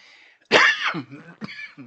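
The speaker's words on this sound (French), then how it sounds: "ça me fait tousser" A man coughs and clears his throat at close range, one loud harsh cough followed by a few shorter, rougher throat-clearing bursts.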